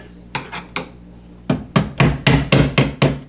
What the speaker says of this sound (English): Just put our connector in there. We take a hammer,